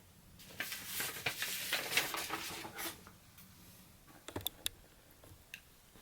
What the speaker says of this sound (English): So I'm just going to hand cut them, whichever irises that I like.